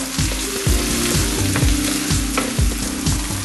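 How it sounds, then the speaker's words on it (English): Three diced red onions fry in hot oil in a pan, giving off a steady, fairly loud sizzle and crackle, with a low mechanical hum pulsing in regular beats underneath. "Heat some oil in a pan and add 3 diced red onions."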